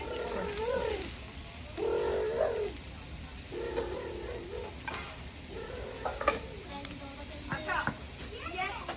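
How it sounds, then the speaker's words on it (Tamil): Vegetarian egg kothu is chopped and fried on a flat griddle, with steady sizzling, stirring and scraping broken by sharp metallic clanks from the chopping blades, while voices talk in the background. "இது கொத்துற தட்டு கழுவி கொண்டு வந்து திரும்ப கொத்துப்படுது"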